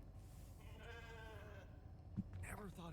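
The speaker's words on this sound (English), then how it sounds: "Never thought I'd be so glad to see a sheep." A sheep in the video game The Alters gives a drawn-out wavering bleat, faint and close, followed by a short second call, with someone talking over part of it.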